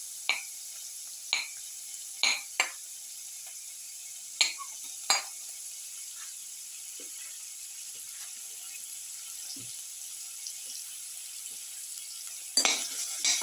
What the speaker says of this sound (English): Put in the onion pieces.